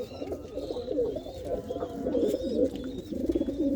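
A pigeon coos nearby in soft repeated throaty phrases over a faint background of other bird chirps.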